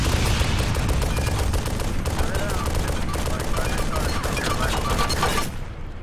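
Dense, continuous gunfire from the video game Arma 2 in a Wasteland match, loud and sustained for about five seconds before dropping off, with voices faintly present.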